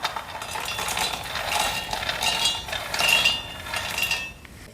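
Roasted peanuts tumble into a metal pan for nippattu and are stirred, giving a close, steady patter of light rattles and clinks with no voices.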